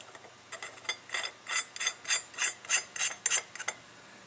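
A plug on a Chrysler, Dodge and DeSoto air-conditioning pump is tightened down with a series of about ten short ratcheting clicks. The clicks grow louder and quicker toward the end and are heard close up against a quiet background.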